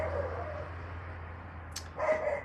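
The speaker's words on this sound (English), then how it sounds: "Here's the Rottweiler barking." A Rottweiler named Rupert barks indoors, a couple of short yaps breaking through a steady low hum, moderately distant and fairly faint.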